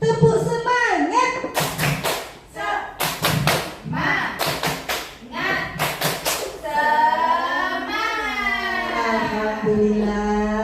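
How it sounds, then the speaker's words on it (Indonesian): A group of women does a rhythmic spirit clap in bursts of sharp, loud claps, with their voices chanting and cheering between and after the clapping. "Tepuk semangat"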